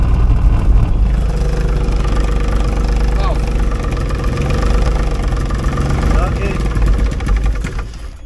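Engine of a DG 500 M motor glider that is failing and will not spin up, a loud steady low droning hum with faint tonal wobbles, under heavy cockpit noise with people talking throughout.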